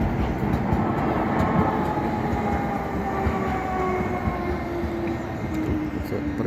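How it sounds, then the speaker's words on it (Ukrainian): A new Kyiv-built tram on route 33 rolls past in a residential street of Stara Darnytsia, a steady, loud rumble of wheels on rails that holds throughout without pause. "Тут такі нові трамвайчики є у нас. Київського виробництва 33-го маршрута"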